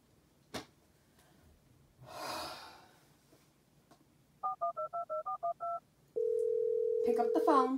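A phone being dialed: a quick run of about eight touch-tone beeps, then a steady dial-type tone, close and clear, with breathing and a rustle just before.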